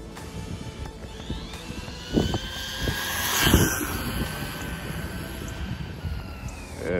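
A Rlaarlo AM-D7 RC car runs at speed, a high motor whine rising and falling as it passes, with a couple of brief louder swells and outdoor background noise, no talk.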